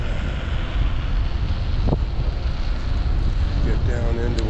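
Wind rushes over the microphone in a constant low roar on a sandy off-road track, with a faint engine-like drone beneath it.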